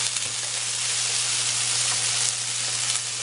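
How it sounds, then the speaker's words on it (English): Beans sizzle steadily in a hot pan, a broad close hiss that holds constant with no voices. "Oh, hear that sizzle."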